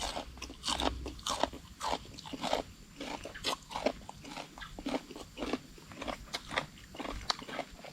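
Close, loud crunching and chewing of crisp food during a Thai mukbang of pounded rice noodle salad, with wet bites and crackles repeating in an irregular rhythm for eight seconds, without speech.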